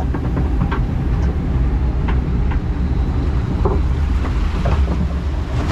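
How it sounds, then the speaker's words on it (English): A log flume ride at Six Flags St. Louis rumbles along with steady loud water rush and wind noise, with a few faint clicks and splashes scattered across the run and no talking. "Here we go, climbing up, first hill on the log flume"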